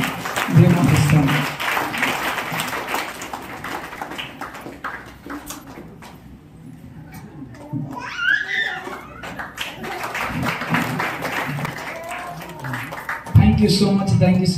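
A church congregation at a celebration service claps hands together, a dense patter of applause that swells and fades over about fifteen seconds, mixed with voices talking in the hall.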